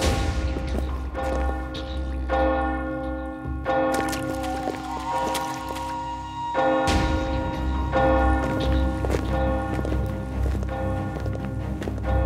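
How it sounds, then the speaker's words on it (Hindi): Bells ring repeatedly over a busy, clattering background with steady rhythmic tolling and overlapping resonant tones, moderately loud and sustained. "घंटी रोक दो।"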